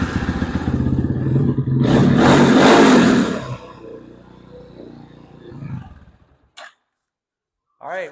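A motorcycle that had been burning oil, just serviced, fires up and revs with a loud roar for about two seconds, then settles into a rough, quieter idle before cutting out. Brief faint sounds follow in the quiet afterwards.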